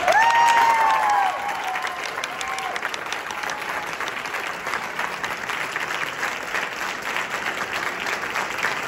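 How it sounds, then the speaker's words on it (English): A variety show audience at a dental school event rises for a long round of applause, loud at first with a few cheers and whoops, then settling into steady sustained clapping from a large crowd. "would you please rise to your feet and give a long round of applause for Mr. Jacob Martin"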